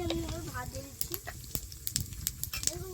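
Cumin seeds drop into melted sugar in a hot pan, giving a soft, crackling sizzle with scattered sharp pops over a low steady frying hiss.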